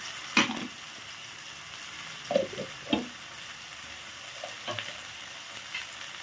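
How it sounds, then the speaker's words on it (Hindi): A paste of ground mustard seed, garlic, green chili and cumin fries in a pan as a quiet sizzle, broken by a few sharp utensil scrapes and stirring knocks. "बेसर पकईदे टिके जस्ट भाजा"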